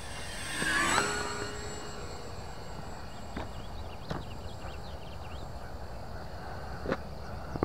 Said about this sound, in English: That motor kind of sounds funny, guys.